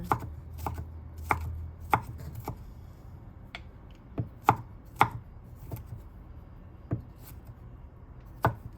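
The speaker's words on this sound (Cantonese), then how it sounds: "薑蓉、蒜蓉啊，切佢粒粒咁樣" Ginger and garlic chopped finely on a cutting board, a series of crisp, irregular knife thuds spaced across the clip, close and moderately loud with no talking.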